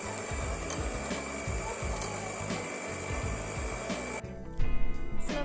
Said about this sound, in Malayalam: മുട്ടയിലേക്ക് ഒരു 10 ഡ്രോപ്സ് വാനില എസൻസ് ഒഴിച്ചു കൊടുത്തിട്ട് നന്നായിട്ട് ബീറ്റ് ചെയ്യാം.